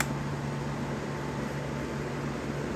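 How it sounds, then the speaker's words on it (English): A Ryobi fan powered from a Ryobi RYI300BG inverter runs on its low setting, a soft, steady whir with a faint constant hum, quiet and unbroken alongside another fan in a warm room. "I'm gonna turn my Ryobi fan on low speed."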